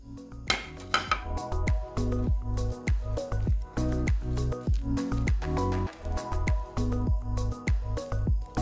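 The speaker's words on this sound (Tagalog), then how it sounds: "Ngayon, i-add naman natin ang ating grated carrot." Grated carrot is folded into steamed carrot cupcake batter in a bowl, producing repeated close, wet squishing and scraping strokes with light clinks of a utensil against the bowl in a steady rhythm.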